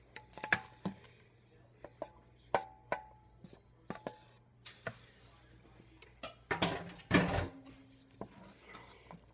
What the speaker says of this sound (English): here's my macaroni. I'm going to go ahead and put it in.